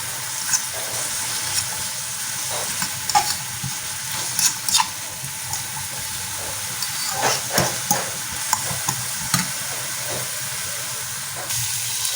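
Batter of mini quiches with taco bread frying and sizzling in a pan, with steady hiss and scattered clicks of a utensil stirring through it, close and moderately loud with no talk.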